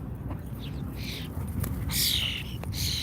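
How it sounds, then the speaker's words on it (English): Loud crows squawk outdoors in short harsh bursts, with a pigeon calling close by and a low background rumble beneath the birds. "we got a lot of land birds today, including some really loud crows"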